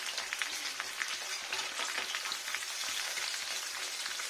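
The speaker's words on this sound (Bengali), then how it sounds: "এখানে একটা তেজপাতা দিয়ে নেবো, শুধু ভাজা যাক, কত সুন্দর ভাজা যাবে।" A bay leaf sizzling in hot oil in a pan while cooking a potato dum, a dense, steady crackling fry heard up close and continuous with no talk.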